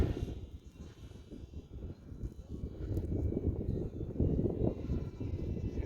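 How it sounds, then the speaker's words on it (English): A small UMX Ultrix RC plane flies at night in wind, its faint, distant motor hum blending with gusty wind noise that swells slightly toward the end. "If there's one plane I feel semi-confident flying in this wind, it's the Ultrix."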